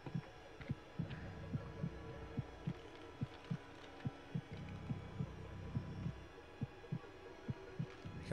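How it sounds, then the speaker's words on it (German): A game heartbeat effect from The Outlast Trails thumps in a steady regular rhythm of low beats over a quiet humming background, with no talk. "Ich habe halt immer noch Herzschlag"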